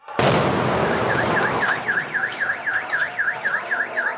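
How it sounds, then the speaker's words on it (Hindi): A bomb hidden in a pressure cooker goes off with a sudden, sharp blast, followed by a car alarm whooping loudly and repeatedly in a steady rhythm. "वहां जोरदार धमाका हो गया।"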